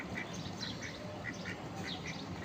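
Ducks quacking repeatedly while being fed, bright calls scattered over a steady outdoor background of rustling and low noise, no speech in this moment.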